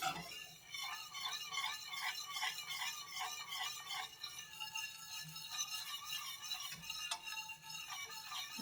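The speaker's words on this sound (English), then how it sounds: "So I'm going to use the whisk here. Just kind of mix it." Butter browning in a hot pan while a whisk moves through it, a faint rhythmic metallic swishing and light ticking over a quiet bubbling hiss, without speech.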